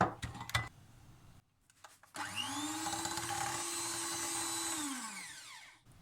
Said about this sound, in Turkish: Bu şekilde sütümü ve krem şanti tozumu kabarana kadar çırpacağım